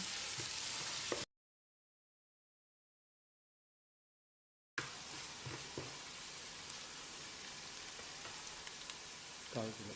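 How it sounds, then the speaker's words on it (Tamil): Three large, finely chopped onions sizzle steadily in a hot pan as they sauté toward golden, with a brief silent gap partway through before the frying noise resumes, close and continuous. "வெங்காயம் நல்லா பொன்னிறமாக வதங்கணும்"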